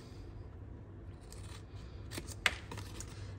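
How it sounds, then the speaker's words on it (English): Scissors snip a small square out of a test tube treat holder craft, several crisp close cuts in a quiet room, the sharpest snip standing out near the end. "And then snip, snip, and snip"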